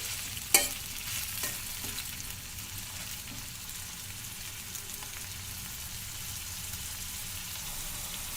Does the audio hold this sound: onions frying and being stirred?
yes